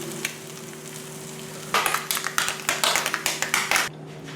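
Turkey bacon frying over medium heat in a pan, a steady low sizzle that jumps to louder crackling and rapid spitting pops for a few seconds before cutting off.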